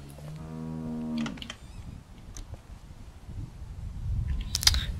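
In The Walking Dead video game, a cow gives one drawn-out low moo at the start, then quiet shuffling, a few soft clicks and a sharper mechanical snap near the end, with no one speaking.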